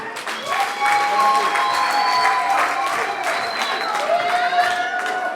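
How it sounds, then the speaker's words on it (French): Wedding guests applaud the newly married couple in a full, sustained round of clapping, joined by crowd noise and high, drawn-out voices or cheers sliding over the claps. "Est-ce qu'on peut applaudir pour eux?"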